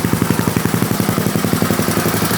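A Yamaha Raptor 660 quad engine idles close and steady, its loud, even chugging pulses repeating in a tight rhythm with no talk.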